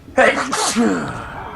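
One sharp sneeze close to the microphone, a sudden burst with a gasping trail, in the middle of an Xbox 360 game commentary.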